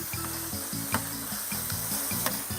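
Pork échine with fennel cream and crème fraîche sizzles steadily on a plancha, a continuous close hiss with faint scraping stirs, over a low pulsing background tone.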